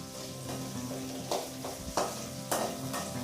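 Onions sauté with a steady sizzle in a pan for fenugreek curry, while a spoon scrapes through them in several distinct strokes close by.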